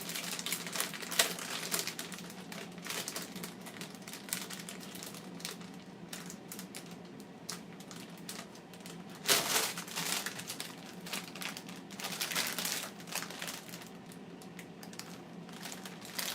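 A plastic bag is opened and crinkled up close, a steady dense rustle and crackle with a few louder crumples, no talking.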